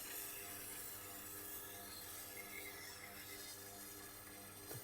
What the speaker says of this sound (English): to polish the back of the burr and weaken it, and quite light.